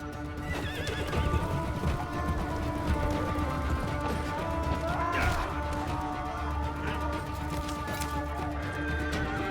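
In Baldur's Gate 3, a horse whinnies loudly amid dense clattering hooves, thuds and impacts, a busy continuous game soundscape with the neigh standing out midway.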